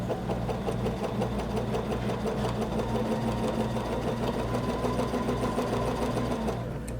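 A Bernina sewing machine with a number 71 lap seam foot stitches binding in a steady, fast, continuous whirring hum that runs unbroken and close up before easing off at the very end.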